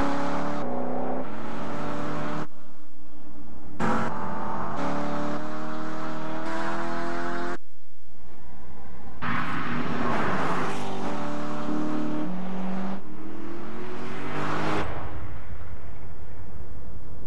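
NASCAR stock cars at Homestead for the 2012 Ford 400 roar around the track, their loud engines revving and droning in several abrupt segments, some rising or passing by, with no talk over them.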